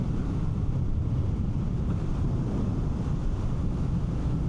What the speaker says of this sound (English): wind's hitting me about upper chest below my helmet, which means that it's not dirty, turbulent air